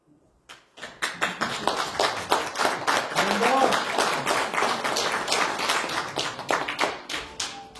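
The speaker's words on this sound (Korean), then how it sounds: "박수 소리가 유독 크신 것 같습니다" Loud audience applause with rapid, uneven clapping rises sharply after a brief quiet start, holds strong for several seconds, then thins toward the end, with a voice faintly heard beneath it.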